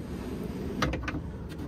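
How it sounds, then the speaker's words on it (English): A sliding storage drawer in a tiny house RV moves on its runner, giving a couple of quick rattling clicks and a soft bump against a quiet room background. "sliding drawer."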